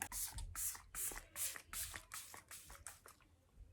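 A nearly empty face mist spray bottle fires a series of quick, hissing, uneven mist sprays, about eight bursts in a steady rhythm, close up, then trails off.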